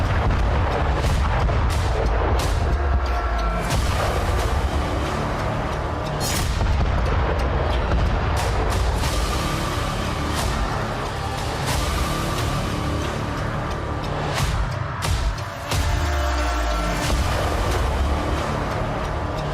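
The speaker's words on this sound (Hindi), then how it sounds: "बारूद से यूक्रेन की तबाही का इतिहास गढ़ने वाले ये धमाके अब सामान्य नहीं हैं।" Artillery explosions in the war in Ukraine, repeated heavy booms in quick succession, loud and close, with rumbling aftershocks and no talk over them.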